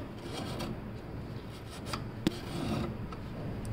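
RAM connector contacts are rubbed clean of dust, producing a faint, close, scratchy rubbing with one sharp tap partway through and no talk.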